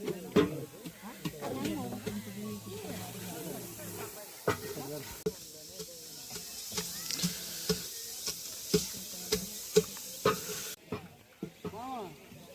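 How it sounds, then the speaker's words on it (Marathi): Chopped onion sizzles and hisses in a pan while a spoon stirs it, part of cooking mutton outdoors in a forest, with people talking over the steady frying throughout. "आता तो कांदा व्यवस्थित हे करून घ्यायचा, भाजून घ्यायचं व्यवस्थित."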